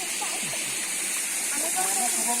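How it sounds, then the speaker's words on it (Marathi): A waterfall roars as a steady broadband rush of falling water, loud and continuous, heard from fairly close at an outdoor scenic spot while people talk over it. "आता आपण हे धबधबा बघतोय थोडं जवळ जाऊन."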